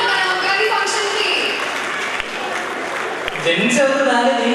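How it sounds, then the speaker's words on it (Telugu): Applause from an audience at an Ugadi celebration event, a broad steady wash of clapping lasting throughout, with voices mixed in underneath. "ఆడియన్స్ చప్పట్లు."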